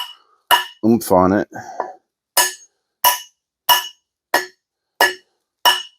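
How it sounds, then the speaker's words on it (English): Someone speaks briefly, then a hammer strikes a metal wedge in a Pulaski axe head about eight times in a steady rhythm, each blow a sharp, ringing clank. "Try this hammer here, see if I can get a little bit more"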